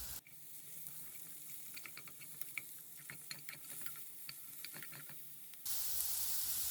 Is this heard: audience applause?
no